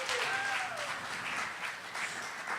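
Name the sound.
audience applause at a talent show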